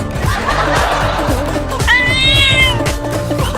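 A cat meows loudly nearby, a drawn-out cry amid a busy background with other voices and some laughter-like sounds.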